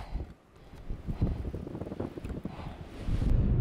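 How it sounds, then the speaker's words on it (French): Cold mountain wind during a mountain-bike expedition buffets the microphone in uneven, rumbling gusts, loud and close, with no talking. "Et le vent qui n'arrange rien."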